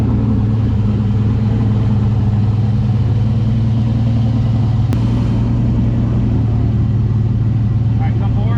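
A turbocharged LS-engined car runs at a steady, loud low rumble close by, holding an even idle-like drone throughout with voices over it.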